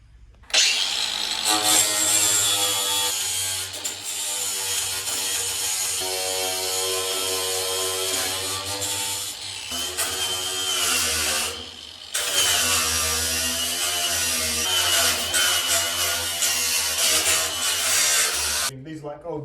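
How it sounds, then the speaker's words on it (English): An angle grinder fitted with a diamond brush tidies the edge of a roughly ground circular hole. It makes a loud, continuous abrasive whine that runs for a long stretch, cuts out briefly, then starts up again. "we're just gonna tidy it up with this diamond brush on the angle grinder"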